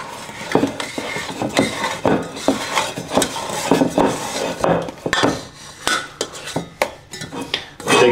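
Kneaded yeast dough for a butter braid is scraped together inside a bowl, making a run of quick scraping, knocking strokes that are close and fairly loud, with an uneven rhythm throughout and no talk.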